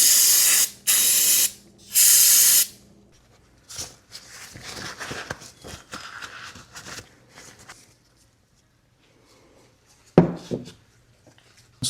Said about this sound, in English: I'm gonna give the bowl a quick spray down.